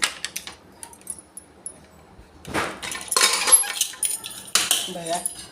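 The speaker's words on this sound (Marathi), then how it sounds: "चला आता आपण कुकर खोलून बघू." A pressure cooker holding egg biryani is opened in a home kitchen: scattered light metallic clinks and rattles, then louder clattering bursts of the lid and metal as it comes off, fairly close.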